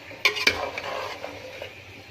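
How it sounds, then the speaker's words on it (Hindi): Aloo gobi, potato and cauliflower curry, stirred in a pan, with a couple of sharp utensil scrapes up front followed by a soft, steady stir and light sizzle, close and unaccompanied by speech. "देखिए हमने मिक्स कर दिया इसको।"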